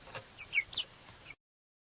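A hen clucks a few short, bright notes at close range over a quiet background, ending abruptly after about a second.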